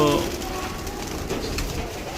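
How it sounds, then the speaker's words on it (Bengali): Pigeons coo in a low, steady murmur throughout, with a person talking faintly in the background. "প্রচুর পায়রা হয়ে গেছে প্রচুর পায়রা দেখতে পাচ্ছেন"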